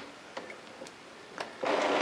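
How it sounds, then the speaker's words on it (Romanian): Epson Stylus S22 inkjet printer powering up after being reconnected to mains, giving a few faint ticks and clicks before a louder mechanical whirr kicks in near the end. "Vom reconecta imprimanta la sursa electrică și o vom porni"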